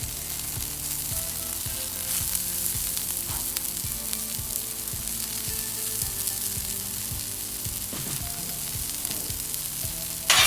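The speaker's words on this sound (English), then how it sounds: "Gonna just put it down on the grill." Broccoli sizzles steadily on a hot grill, a constant crackling fry held at close range with no talk, a brief louder flare right at the end.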